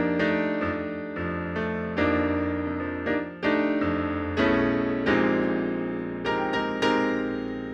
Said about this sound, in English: The suspended sound is a very modern sound